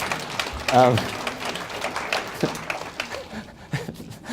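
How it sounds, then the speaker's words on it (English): An audience at an autism conference talk applauds briefly, a soft spread of clapping mixed with scattered reactions and a short vocal sound, fading as the room settles. "Thank you for applauding that."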